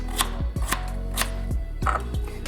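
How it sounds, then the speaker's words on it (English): Knife chopping potatoes into bite-size pieces on a cutting board for Polish cucumber soup, a steady series of sharp, close knocks at an uneven rhythm with no talking. "Now I will cut potatoes bite size."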